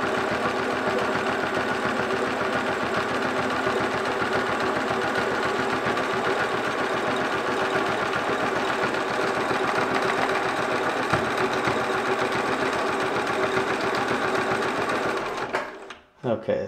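A Bernina 1030 sewing machine stitches a zigzag in a fast, continuous, close mechanical whir that holds steady for about fifteen seconds before it stops, followed by a few brief handling noises.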